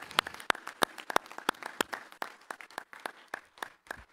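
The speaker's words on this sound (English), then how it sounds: "you can applaud." A church congregation applauds in sparse, distinct claps, a handful of people clapping unevenly at a quiet level rather than a full roar.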